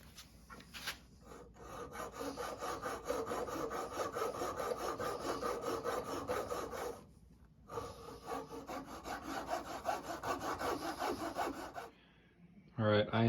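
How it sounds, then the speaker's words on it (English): Saw cutting through the laminated tip of a hybrid recurve bow repaired with hackberry and epoxy, heard as close, steady rhythmic rasping strokes. There is one brief pause midway, and the cutting stops near the end. "I have managed to cut through that length right there at the very tip of the recurve"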